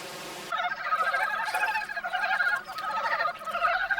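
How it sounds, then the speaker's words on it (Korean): Mountain frogs calling for mates in spring form a loud, dense chorus of croaking and clucking calls that overlap continuously after a brief quiet start. "짝을 찾는 산개구리들의 울음소리가 우렁차다."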